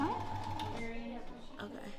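A sewing machine stitches along the fabric edge with the presser foot guiding it during a beginner sewing class, running in a steady continuous whir under an instructor's speech.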